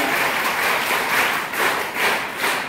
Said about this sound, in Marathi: एकदा टाळ्या वाजवूया